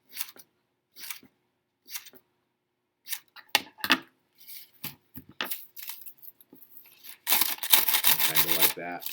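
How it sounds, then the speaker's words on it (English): Scissors cut through paper for a classroom rug drawing, a series of separate crisp snips with pauses between them, then a longer denser stretch of cutting near the end, with no voices over them. "Opening our scissors all the way."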